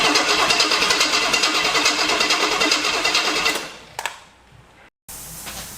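A lifted Cadillac engine cranks with a rapid rhythmic whir for several seconds, then catches briefly with a couple of sputters, cuts out, and fires again into a rough running note, close and loud.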